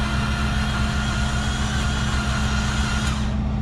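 A 2004 Mazda RX8 with its rotary engine cranks but fails to start: a steady, droning mechanical hum with a low, continuous buzz, holding even throughout and cutting slightly near the end.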